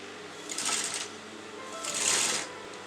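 Sewing machine stitching the neckline of a kurta in two short bursts of rapid mechanical whirring, close and fairly quiet, separated by a brief pause.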